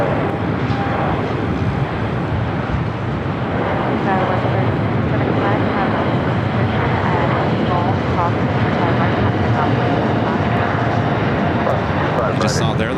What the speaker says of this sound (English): Next takeoff here on the south side is Turkish Airlines Flight 180 heading back to Istanbul